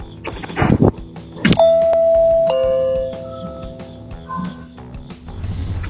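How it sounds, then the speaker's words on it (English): A doorbell rung by a dog gives a clear two-tone chime, ringing out and fading, preceded and followed by scuffling and knocking noises near the door. "this tenacious dog rang the doorbell when his owners wouldn't let him in."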